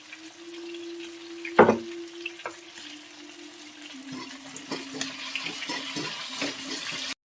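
Mustard seeds splutter in hot oil as tempering for a banana-leaf fish pollichathu, with a single loud clatter early on, then a light, scattered crackle of small pops under a steady background hum.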